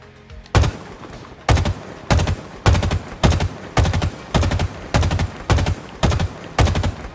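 AR assault rifle in Halo Infinite fired in eight short bursts, each a sharp rapid rattle of shots separated by brief pauses, loud, close and steady in rhythm, with no talking.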